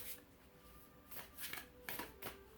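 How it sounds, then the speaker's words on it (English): Tarot cards are shuffled close by, with soft riffling bursts and papery slaps that grow louder toward the end over a faint, steady background hum. "as I'm shuffling"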